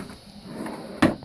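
A workshop drawer holding sharpening supplies slides and knocks shut with a single sharp thud near the end, preceded by a faint scraping slide.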